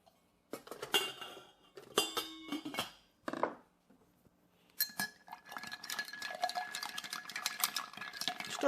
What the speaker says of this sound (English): Next, we're going to add some ice and stir.